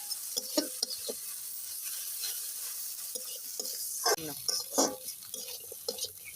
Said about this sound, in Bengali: এবার আমি নেড়ে ছেড়ে ভালো করে লবণ হলুদটা শাকের সাথে মিশিয়ে দেবো।